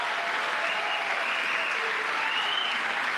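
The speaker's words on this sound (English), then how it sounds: "Listen to that applause." A crowd in the gallery of the U.S. Congress applauds steadily at a presidential address to Congress, a dense, even wash of clapping heard from some distance, with faint cheering mixed in.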